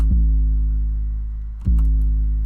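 Two deep 808 bass hits with no envelope shaping, each a loud sustained low boom that rings on without decaying, the second starting about halfway through with a brief click at the attack.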